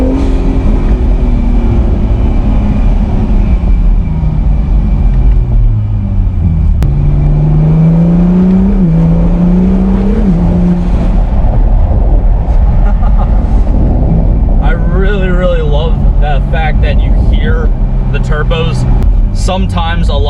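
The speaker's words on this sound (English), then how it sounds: "Plus it also does open up the exhaust, and this thing does sound very nice." A 2019 Acura NSX mid-engine hybrid supercar with its exhaust opened, loud engine rumble rising and falling through several revs and gear changes, with someone talking over it.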